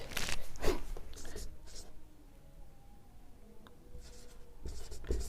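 A mineral definition being written on a board, with intermittent scratchy strokes in short bursts separated by pauses, close and moderately loud.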